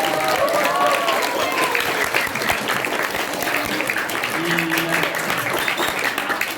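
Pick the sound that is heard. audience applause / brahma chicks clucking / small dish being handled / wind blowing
audience applause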